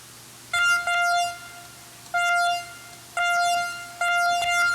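Bright, buzzy synth lead playing short held notes in a stuttering rhythm, horn-like and loud against a faint background hum.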